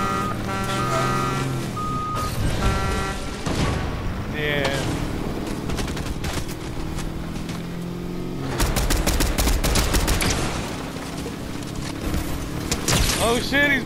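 Pump shotgun blasts in a Fortnite match, sharp broadband bursts scattered through a busy mix of game sounds, with players talking excitedly over the action.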